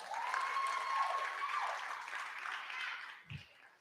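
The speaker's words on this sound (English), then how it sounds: "A round of applause." Steady applause from the audience at a social impact tech demo day, a sustained wash of clapping that thins toward the end, with a sustained tone heard under the start.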